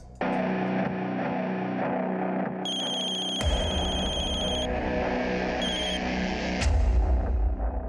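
A telephone ringing in a tense crime drama scene: a loud, steady electronic ring with repeated bursts, backed by dramatic background music and a low rumble, with no talking.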